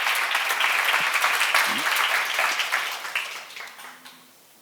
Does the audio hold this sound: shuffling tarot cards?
no